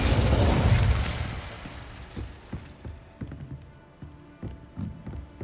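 An Incendio fire spell from the Hogwarts Legacy video game bursts loudly in a roaring whoosh, then fades into a string of softer mechanical taps and pops.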